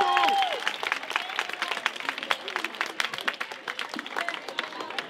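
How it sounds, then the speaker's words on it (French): A TV studio audience applauds for a guest named Bernard, brisk close clapping with some whistles and cheers, sustained throughout. "Faites un tonnerre d'applaudissements pour Bernard"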